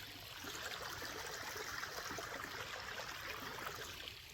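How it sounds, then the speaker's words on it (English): Battery-powered pump filling a barrel with creek water outdoors off-grid: a steady, close rush of pouring, splashing water runs unbroken and fairly loud throughout, with no voices. "So it's all pumping in that barrel."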